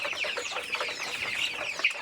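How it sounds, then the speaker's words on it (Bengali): Tiger chickens on a farm cluck busily and continuously, a close, dense chorus of short clucks from several birds, with no one speaking. "দেখতে পাচ্ছেন মুরগিগুলো কতটা চঞ্চল।"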